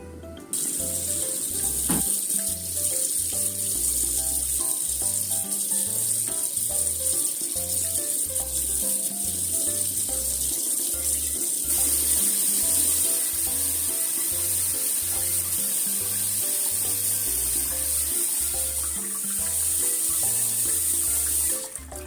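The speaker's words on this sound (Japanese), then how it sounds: "もうね黒くなったのでまた洗いますよ。" Blackened chestnuts from a skin-on simmered preserve rinsed under a running kitchen tap in a sink; steady, close rushing water throughout, with faint background music underneath.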